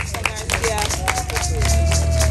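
Live audience at a Garifuna community recognition event, broadcast on radio, clapping in a sustained dense round of applause with crowd murmur and scattered voices mixed in, loud and close, swelling slightly toward the end.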